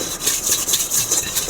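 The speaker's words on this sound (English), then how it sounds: "Use your fingers, rub it around." Fingers rub oil around a greased pan, a close, rhythmic swishing scrape that repeats in quick strokes, with a dry rasping texture and no voices.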